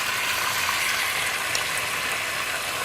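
Chicken thighs sizzling in a hot pot, a steady, dense frying hiss that holds evenly throughout at moderate level, close by with no voices.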